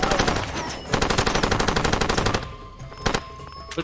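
A heavy machine gun fires in Far Cry 2, long loud close bursts of rapid rattling shots, then a pause broken by a few scattered single shots.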